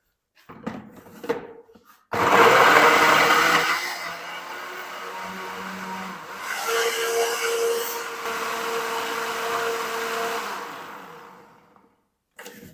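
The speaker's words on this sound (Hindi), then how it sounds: "चलिए जल्दी से ना हम इसकी एक फाइन पेस्ट तैयार कर लेते हैं।" A blender grinds ginger with about half a cup of water into a fine paste, a loud motor roar that starts abruptly, eases, then surges again before winding down, with brief handling clatter before and after.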